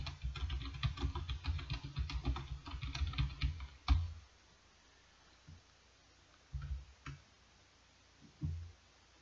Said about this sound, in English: let's type in reduced energy scenario